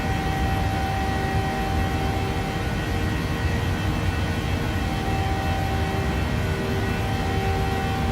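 Airliner departing Antigua in a PMDG flight simulator, a steady loud engine roar with broadband whine and a faint tonal hum, unchanging throughout, no talk.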